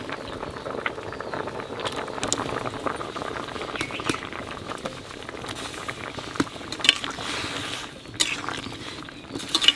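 Potatoes simmer in a pot with jackfruit and prawn curry, a steady bubbling patter with small pops and occasional scrapes, close and continuous.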